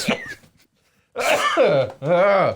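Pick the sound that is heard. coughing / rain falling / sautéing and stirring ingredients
coughing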